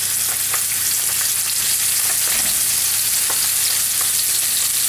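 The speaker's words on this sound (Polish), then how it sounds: "chcę sobie troszeczkę przycisnąć i raczej na dużym ogniu obsmażamy skórę" Bone-in, skin-on chicken breast sears skin-side down in a very hot pan over high heat, giving a loud, steady, dense sizzle with small crackles throughout and no talking.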